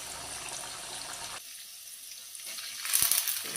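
Chopped onions fry in hot white oil in a wok, giving a steady close sizzle and hiss with a brief louder spatter near the end.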